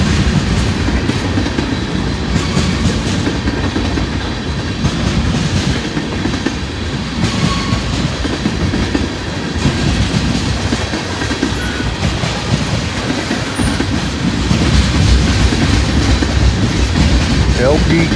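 A freight train hauling loaded LP gas tank cars rolls past close by, a loud, steady rumble with rhythmic clickety-clack from the wheels that lasts the whole stretch without pause.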